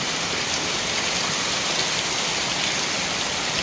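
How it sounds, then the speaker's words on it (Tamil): Heavy rain pours down in a dense, steady hiss of drops striking surfaces, loud and close, unbroken for the whole stretch with no voices. "மழை பெய்யுது"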